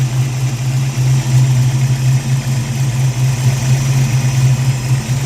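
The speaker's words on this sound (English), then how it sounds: "Hey, it's running and idling and doing the things" A Ford Mustang engine with a newly fitted QFT Slayer 750 carburetor idles steadily up close, a constant low rumble with an even mechanical hum and no talking.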